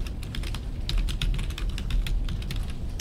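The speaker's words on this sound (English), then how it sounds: "type in Save Money and Increase Comfort" Steady, rapid typing on a computer keyboard as a PowerPoint title is entered, crisp close key clicks in a continuous run over a low background rumble.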